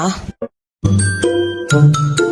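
A notification bell sound effect: a quiet pause, then a string of bright chiming tones strikes three or four times in quick succession, each ringing on with sustained overtones, loud and close.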